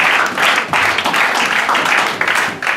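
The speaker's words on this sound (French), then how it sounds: "Applaudis encore pour Dieu, applaudis encore pour le Seigneur" A church congregation claps together in steady, rhythmic bursts, loud and close, with voices faintly mixed in.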